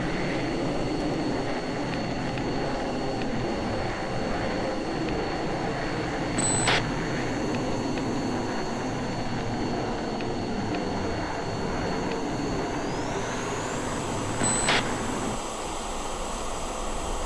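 Jet aircraft taxi in the Falcon 4 BMS flight simulator, a steady whining engine drone with a tone that shifts upward late on and brief clicks from radio transmissions.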